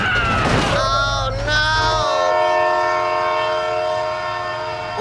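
A train in the BeamNG driving game thunders past with a loud, sustained multi-tone horn blast over a rumbling engine, the horn holding steady as the rumble drops away.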